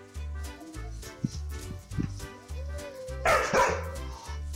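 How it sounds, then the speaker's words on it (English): A dog barks in short bursts, a few sharp yips early and a louder flurry near the end, over a steady low rhythmic background of music. "Bark all you want, but Kitty's quiet judgment speaks louder"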